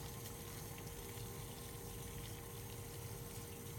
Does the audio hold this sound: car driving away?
no